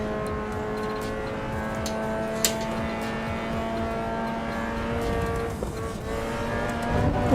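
A race car engine at the Nurburgring in the Assetto Corsa Evo racing game, droning loudly and steadily with sustained harmonic tones that shift slightly near the end, alongside small clicks and a brief tire noise.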